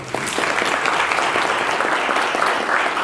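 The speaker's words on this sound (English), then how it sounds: "Clap for my brother." An audience at a healing-themed conference clapping loudly and continuously, a thick wash of applause throughout.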